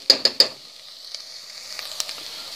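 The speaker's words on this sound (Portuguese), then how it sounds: "Dá uma refogadinha no alho aí." Garlic sautéing in a pan for a tilapia lasagna gives a faint, steady sizzle, opened by three quick clacks of a utensil against the pan.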